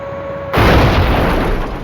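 A single loud hand grenade blast during a Vietnam War siege at Lang Vei, breaking in abruptly after a quiet moment and leaving a broad, rumbling roar that fades slowly.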